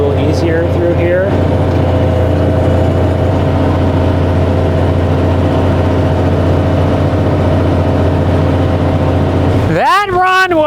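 A tractor pulling a tile plow through a field after leaving grass, its heavy engine droning loud and steady and straining under load, with a brief rising whine at the start and again near the end.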